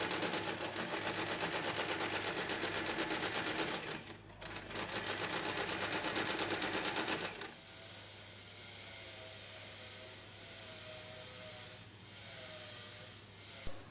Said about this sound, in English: Sew across again, close to the edge, to lock them in place.